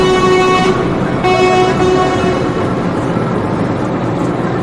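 Fire truck horn blasts loudly up close in two long blaring tones, followed by a continuing heavy engine rumble.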